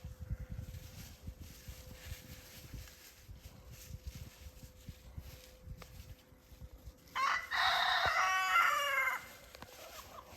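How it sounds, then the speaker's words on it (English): A rooster crows once, close and loud, breaking through a quiet outdoor background after several seconds of low ambient rumble. "And that rooster is just letting me know he knows I'm here."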